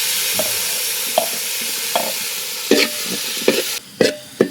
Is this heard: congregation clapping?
no